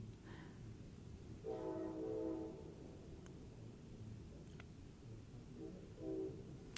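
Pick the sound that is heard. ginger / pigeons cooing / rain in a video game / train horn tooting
train horn tooting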